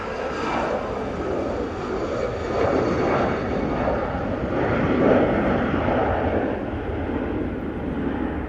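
Finnair airliner jet engines at Manchester Airport, a steady, broad roar lasting throughout with a slight swell around the middle, no voices over it.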